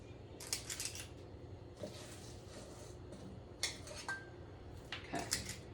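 Raw oatmeal raisin cookie dough being set down on a metal baking tray, making faint, scattered clinks and light taps at irregular intervals in a quiet kitchen.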